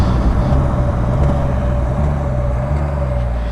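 Can-Am Spyder RT three-wheeled motorcycle decelerating under engine compression braking, a steady low engine drone with a faint whine, heard close up, continuous with wind rush and no talking.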